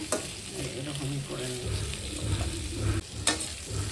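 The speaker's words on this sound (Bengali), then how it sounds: "আলুগুলো একটু ভাজা ভাজা হোক" Steady sizzling of potatoes frying in a pan, with scraping and stirring sounds throughout; close and fairly loud, no talking.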